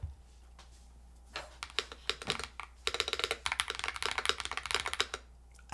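GravaStar V60 Pro mechanical keyboard fitted with GMK keycaps being typed on, a quiet start building into a dense, fast run of close, crisp clacky keystrokes.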